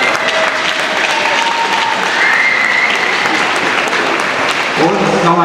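A crowd claps for teams at a youth U7 ice hockey award ceremony, loud sustained applause filling the hall, with a voice starting to speak over it near the end.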